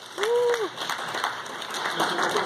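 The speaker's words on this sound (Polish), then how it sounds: "Wielkie brawa." Fairly quiet applause from a seminar audience at a business book talk, a short spell of diffuse clapping with a voice briefly audible over it near the start.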